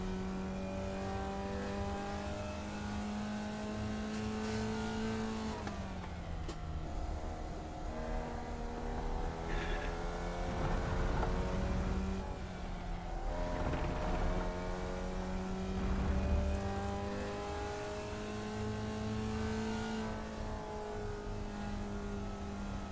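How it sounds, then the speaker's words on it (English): Racing cars driving in the sim racing game iRacing, engines droning and shifting pitch steadily throughout with revving rises and drops, loud and continuous with no talk. "Oh, I can hear some racing car drivers"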